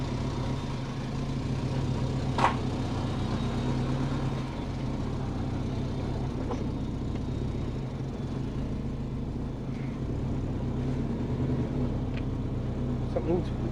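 Subaru car on its first drive after an automatic-to-six-speed manual swap, a steady low engine rumble and road noise holding throughout with a few faint clicks and knocks, and people talking over it.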